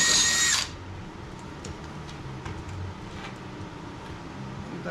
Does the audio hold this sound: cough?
no